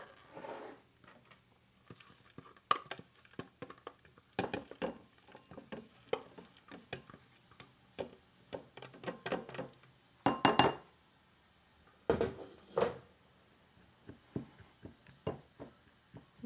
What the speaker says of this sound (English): So we'll put that mixture into a bowl here.